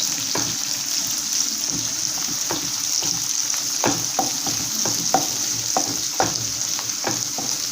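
Ingredients for vegetable sambhar fry in a pan on a low flame until lightly browned. A constant close sizzle runs under repeated scraping and knocking strokes of a stirring spoon.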